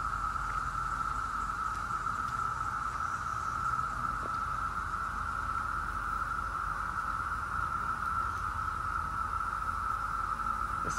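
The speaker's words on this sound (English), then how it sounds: "This is the cicada." A steady, shrill insect drone holds at one pitch throughout, loud and continuous like a dense chorus of cicadas, with no pauses or talking.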